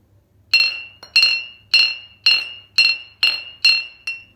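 A 13-inch stone kharal mortar struck again and again, giving eight bright, ringing clinks at an even, fairly quick pace, each one crisp and close with a short decay and no voices.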